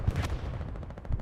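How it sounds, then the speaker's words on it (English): Artillery strikes landing in the World War II shooter Hell Let Loose, a short burst of heavy booming impacts with a rumbling low tail, fairly distant and muffled, and no voices over it. "Artillery strikes falling."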